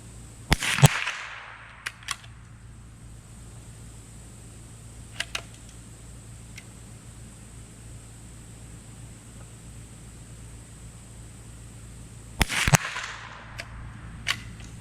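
Two sharp gunshots fired outdoors in a back yard, well spaced about twelve seconds apart, each a loud crack with a short reverberant tail, with a few faint clicks and handling noises between over a steady low hum.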